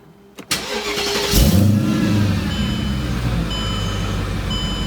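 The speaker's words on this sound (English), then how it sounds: "let's go ahead and see how it starts up now, especially after just driving" A Mercedes CLK55 AMG with the M113K supercharged V8 cranks briefly, catches and settles into a loud, steady idle close by, with thin electronic chimes sounding over it, just after driving and repair work.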